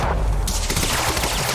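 Loud, close gunfire from the video game Quantum Break, a continuous automatic burst of rapid shots filling the short stretch without pause and with no talking.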